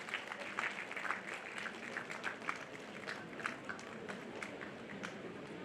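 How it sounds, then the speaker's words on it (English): Applause from the audience at a college of engineering graduation ceremony in Bangalore, a steady patter of many hands that stays fairly soft and distant throughout, with no talk. "Please offer a big round of applause to our HKBK Head."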